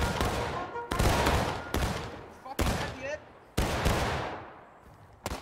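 Musket volleys in a battle video game, a series of about six sharp loud shots at irregular intervals, each decaying into a rolling echo, with shouting voices in the background.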